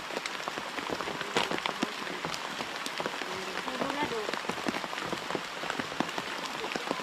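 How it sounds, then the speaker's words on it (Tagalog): Rain patters steadily on a surface, dense and continuous, with a few quiet voices talking underneath. "Hindi na maantay na titila yung ulan."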